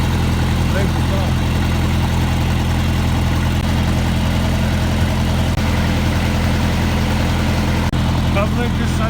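A tractor engine runs steadily while blading deep snow near a house, a loud constant low rumble throughout with someone talking over it.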